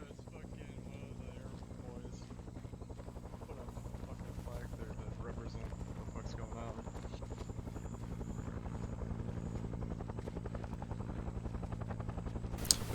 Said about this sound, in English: Here comes a heli.